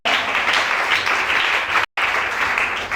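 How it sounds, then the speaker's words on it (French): Congregation at a desert worship service for Jesus bursts into loud, sustained applause that fills the space, broken by one brief gap before the clapping resumes just as strongly. "Acclamons Jésus"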